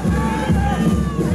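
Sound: audience applause at a marinera dance competition

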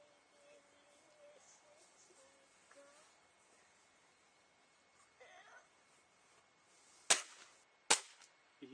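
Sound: gunshot shooting soft clay

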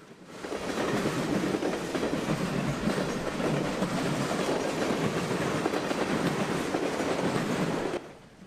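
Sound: northbound train passing on Norfolk Southern main line

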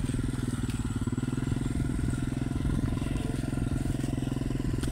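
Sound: motorcycle engine with throttle applied

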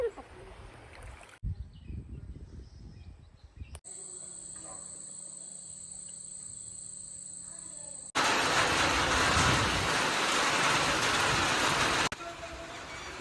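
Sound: rain falling

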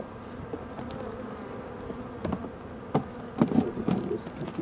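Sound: honey bees buzzing at an opened beehive

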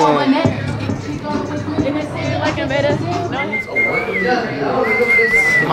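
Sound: human whistling

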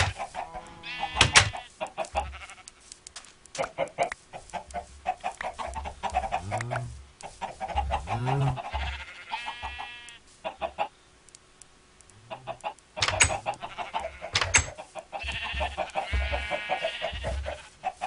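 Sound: chickens clucking in the video game Minecraft

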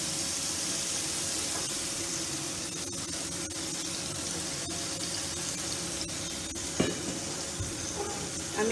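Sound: spice paste being sautéed in oil, sizzling

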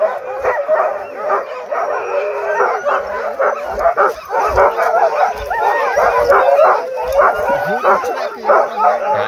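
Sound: sled huskies barking and howling

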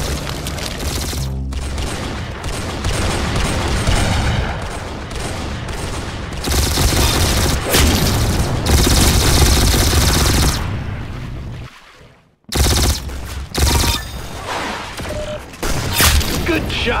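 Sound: gunfire in a video game shooter

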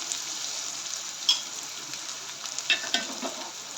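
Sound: sautéing sevai upma tempering with turmeric

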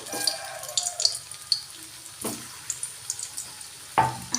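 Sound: carrot-paneer kofta balls frying in oil

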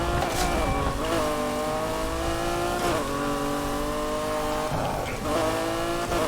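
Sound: modified pickup truck driving in Need for Speed Heat video game

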